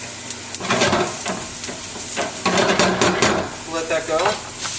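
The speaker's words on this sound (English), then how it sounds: "So we just break this bad boy up and start cooking off some sausage." Sausage and big-cut garlic sizzle and crackle in a hot pan while being stirred and broken up, a steady close hiss punctuated by scraping stirs, with no talk.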